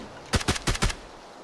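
Four sharp, close gunshots ring out in quick succession in the battle-royale shooter PUBG, forming a short burst against a quiet background with no talk.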